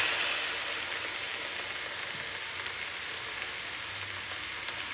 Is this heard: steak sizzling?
yes